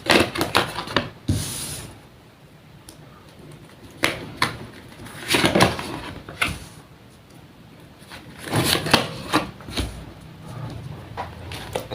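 Tarot cards are shuffled in quick crisp bursts of riffling and tapping, several separate rounds close by with quieter pauses between.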